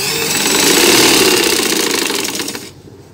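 A sewing machine runs steadily for about two and a half seconds, stitching a pleat into baby summer dress fabric, then stops abruptly; the motor whir is loud and close, with no talking.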